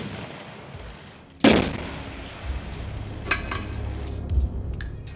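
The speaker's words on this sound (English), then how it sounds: "walked through the mined area in the middle of explosions and fire." A sharp, loud explosion goes off in a mined area during a protective suit test, followed by rumbling and a few smaller cracks and bangs.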